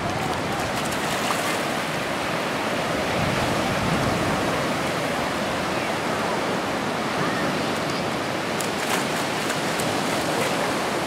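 Ocean waves break on a sandy beach in a steady, close roar of surf and washing water that runs unbroken throughout, with a faint voice underneath.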